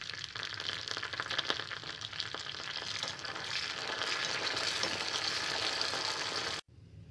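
Garlic, curry leaves, dried red chillies and seasoning seeds frying in hot oil for a tempering, a continuous dense sizzle with occasional stirring that cuts off abruptly just before the end.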